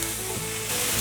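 Luffa stir-fries in a pan after snow-white mushrooms have softened, giving a continuous broadband sizzle and hiss that swells slightly near the end.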